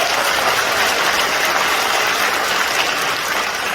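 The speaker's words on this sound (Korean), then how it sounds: "그러면 박수 한번 주십시오." An audience at a political party members' training session in Gumi applauds, a steady dense wash of clapping filling the whole moment, loud and even without any talk.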